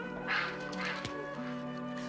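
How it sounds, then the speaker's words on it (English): A duck quacks from inside a well in a church, a few nasal quacks close by over a steady background with faint tonal music. "in the well swims a duck"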